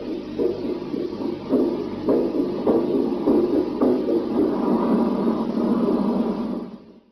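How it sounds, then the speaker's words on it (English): Recorded heartbeat telemetry from a 1962 space flight comes through as a muffled, steady low throbbing rumble with faint repeated pulses. It holds level and loud, then fades out at the end. "This one starts normal, heartbeat telemetry."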